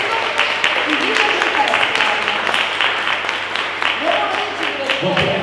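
Audience applauding at an afternoon screening of a film festival held at Villa d'Este, a steady dense wash of clapping from a sizable crowd throughout, with a few voices and murmurs mixed in.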